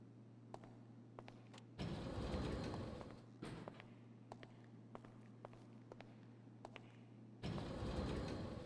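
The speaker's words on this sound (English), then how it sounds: "Your personal vehicle is being brought up now." A personal car in GTA Online pulls up in a garage, with engine rumble, door and footstep-like clicks, and two louder bursts of engine revving. No one speaks.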